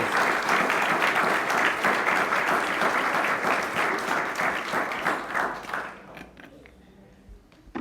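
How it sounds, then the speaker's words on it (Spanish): A church congregation breaks into loud, dense applause that holds steady for several seconds, then thins out into scattered claps and fades toward quiet. "¿Cuántos le dan un buen aplauso al Señor?"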